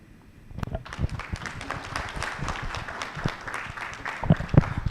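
An audience at an insurance industry event claps for a panel, a lively, dense patter of applause that builds and stays steady for several seconds with a few sharper claps near the end.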